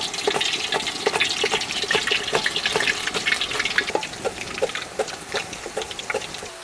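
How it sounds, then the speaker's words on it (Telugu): Potato chips deep-frying in hot oil until evenly colored, a steady bubbling sizzle with frequent crackles and pops, close and continuous throughout, with no talk. "అన్నీ ఇదే విధంగా ఒకే కలర్ వచ్చే వరకు వేయించుకోవాలి."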